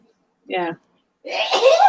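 A short spoken word, then a brief pause and a loud, close sneeze that bursts out and trails off.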